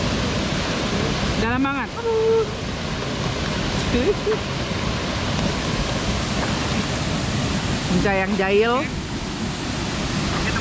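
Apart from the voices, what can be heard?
Sengkuang waterfall in Kepahiang, Bengkulu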